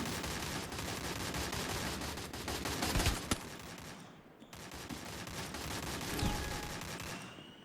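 Rapid automatic M4A1 rifle fire in a shooter video game, dense continuous rattling bursts with a brief pause midway, loud and close, with no talking.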